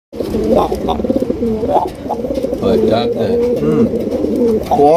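Pigeons coo repeatedly in low, throaty, rolling calls, several birds overlapping close by at a pigeon farm, steady throughout with a brief pause near the start.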